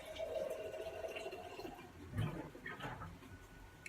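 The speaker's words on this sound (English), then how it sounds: "fill it up with some water" Water is poured into a large glass for a kale and pear green smoothie, a soft, faint liquid trickle and splash under low room noise.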